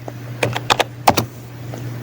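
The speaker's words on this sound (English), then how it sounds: "I'm going to type a code and then a dot at the very end" Several keystrokes on a computer keyboard, typed in short irregular bursts at close range while a command is entered to open Visual Studio Code, over a steady low background hum.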